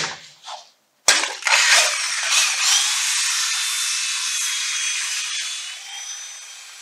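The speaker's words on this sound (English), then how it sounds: "you'll hear the drill or the mixer kind of struggling a little bit." After a short pause, a power drill mixer starts abruptly and struggles through thick glass-fiber-reinforced concrete, a harsh, sustained whir that gradually eases.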